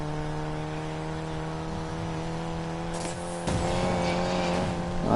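Racing cars in the Need for Speed video game roar with steady engine drones, then a second car closes in and overtakes with a louder surge of engine noise and tire squeal near the end, no talk.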